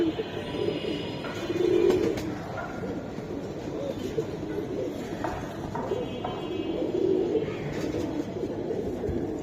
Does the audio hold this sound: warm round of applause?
no